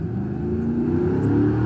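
A 5.3 V8 engine with an LS1 intake and truck exhaust manifolds run out the front idles loudly up close, its deep steady rumble rising slightly in pitch as it revs up a little.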